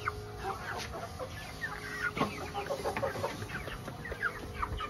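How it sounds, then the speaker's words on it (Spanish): Chickens on a farm where young roosters around three months old are raised cluck in busy overlapping calls, close and moderately loud, with a steady background hiss and no talking. "vamos a agarrarle a un gallito para que puedan ver más o menos cómo está finalizando los 3 meses"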